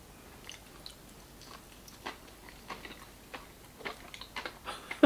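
Faint, crisp crunching bites into a donut with chocolate sauce and sprinkles come through at irregular intervals over a quiet background, growing slightly more frequent and louder toward the end.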